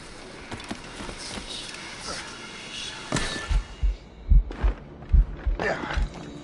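A heartbeat effect in the Assassin's Creed Rogue video game, a series of deep, booming thumps pulsing irregularly over a background hum, with a voice talking under it.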